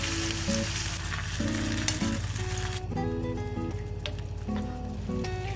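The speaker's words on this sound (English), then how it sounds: "Stir this until the beans are hot enough." Beans stirred and heated in a pan, a continuous close sizzle and bubbling with a steady hum beneath and no voices.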